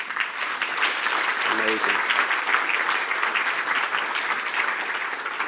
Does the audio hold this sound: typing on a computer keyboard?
no